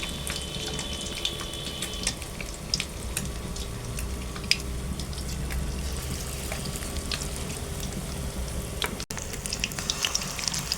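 Gourd-leaf fritters dipped in gram flour batter frying in hot oil, a steady soft sizzle with scattered pops and crackles, close and continuous with no talking.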